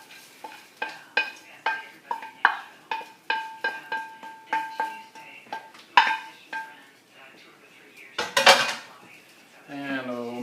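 A utensil stirs stuffing with butter, sausage and almonds in a bowl. Quick rhythmic clinks and scrapes repeat close up, followed by a louder clattering scrape and a brief voice at the end.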